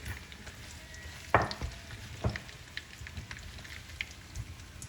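Onion and garlic sizzle in hot oil in a pan for a Portuguese codfish casserole, a steady close crackle with a few sharper spatters and stirring scrapes.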